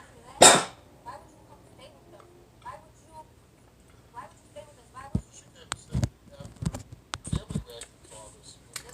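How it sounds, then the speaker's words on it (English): A single sharp, loud sneeze bursts out near the start, followed by quieter talking and some rustling handling noises. "Sorry, I had to sneeze."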